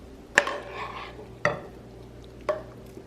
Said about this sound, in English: All it wants you to do now is fluff it with a fork and add in some of those green onions.